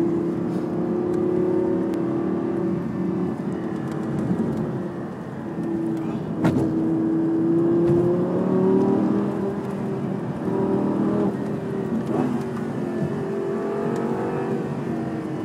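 Lamborghini Superleggera driven hard around the Millbrook test track, its engine droning steadily with rising and falling pitch as it accelerates and shifts, loud and close from inside the car throughout.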